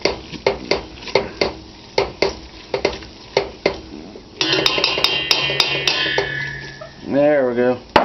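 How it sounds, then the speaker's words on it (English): A wooden spoon or utensil stirring roux for chicken sausage filé gumbo in a pot over a flame, with repeated short scraping strokes in a steady rhythm, then a brief clatter of cookware and a rising hiss near the end. "Just keep stirring it."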